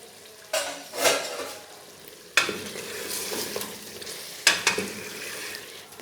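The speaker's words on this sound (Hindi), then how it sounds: "ये देखें दही के अंदर ही मैं इसको भूनूंगी अच्छे तरीके से।" Meat frying in yogurt for shaljam gosht sizzles steadily in a pot, broken by loud bursts of spoon stirring and scraping against the metal at irregular intervals, close and without talk.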